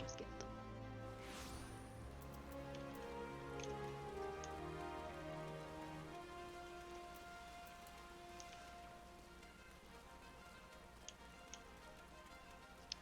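Rain falls in the game Final Fantasy XIV outside the city of Ul'dah, a steady soft patter of drops on surfaces with occasional light ticks, under quiet background music and without speech.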